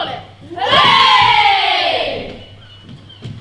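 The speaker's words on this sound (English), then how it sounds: "One more cheer for Captain Smollett." A crowd of children at a prep school production of Treasure Island lets out one loud, close cheer for Captain Smollett that swells within a second, holds, then fades away, with a few stray shouts after.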